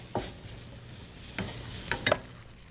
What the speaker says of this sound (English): Just give this guy a little stir.